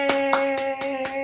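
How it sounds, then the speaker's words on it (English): A mother claps her hands for her baby: five crisp, evenly spaced claps about a quarter second apart, close and clear over a steady tonal hum. "Check out mom clapping for her baby"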